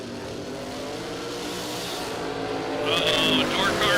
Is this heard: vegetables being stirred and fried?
no